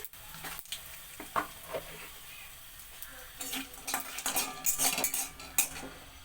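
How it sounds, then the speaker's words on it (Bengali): Bay leaf pieces and white cumin seeds tempering in hot mustard oil, soft crackling sizzle mixed with clinks of a spoon against the pan, growing busier and louder toward the end. "একটা তেজপাতাকে দুই টুকরো করে দিয়ে দিলাম ফোড়নে হাফ চা চামচ সাদা জিরে ফোড়নে দিয়ে দিচ্ছি"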